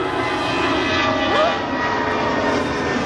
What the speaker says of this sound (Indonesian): Kalian dengar nggak pesawat? Rendah banget.